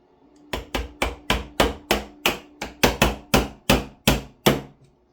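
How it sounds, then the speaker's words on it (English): Fourteen sharp metallic hammer taps on a punch drive out a pin from an airsoft rifle, in a steady rhythm, each ringing briefly, close and fairly loud. "So I need a hammer and I need something to punch the pin out."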